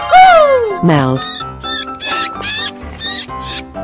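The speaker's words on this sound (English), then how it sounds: "Mouse." Cartoon mouse squeaks from a children's animal cartoon: a long falling squeal followed by a rapid string of short, high chirpy squeaks, loud and close, in a bright tonal burst.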